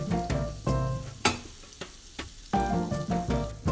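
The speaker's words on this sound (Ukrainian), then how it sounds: "Обсмажуємо червону цибулю 2 хвилини." Red onion sizzles and crackles in butter in a pan while a utensil scrapes and knocks against it in an uneven rhythm, close up.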